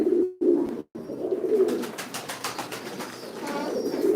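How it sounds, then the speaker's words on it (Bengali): A pair of fancy pigeons at a pigeon farm in Sylhet coo steadily and close by, with low repeated throaty calls that continue for several seconds and no talking. "এই জোড়া কবুতর"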